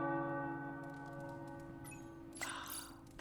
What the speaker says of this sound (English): The tower bells are ringing.